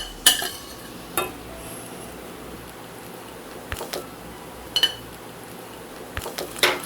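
Sautéed egg being stirred into bread upma in a pan, sparse spoon scrapes and metallic clinks against the pan over a soft steady background.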